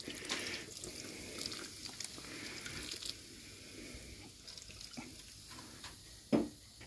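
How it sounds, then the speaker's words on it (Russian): Beer is poured from a can into chili cooking in a kazan over a smoker, a soft steady trickle and splash that ends with a brief sizzle. "Берем пивас и выливаем полбанки прямо в чили сюда вот."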